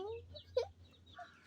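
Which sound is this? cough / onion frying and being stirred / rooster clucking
rooster clucking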